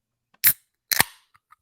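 Two sharp can-opening cracks of Mountain Dew AMP energy drink cans, close and loud, the second with a short hissing fizz trailing off, followed by a couple of faint small clicks.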